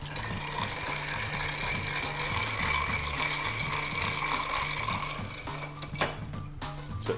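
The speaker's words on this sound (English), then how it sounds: "Give that a stir." A mezcal cocktail with Campari and vermouth being stirred over ice in a mixing glass, a continuous close rattling and clinking of ice that ends in a sharper knock near the finish.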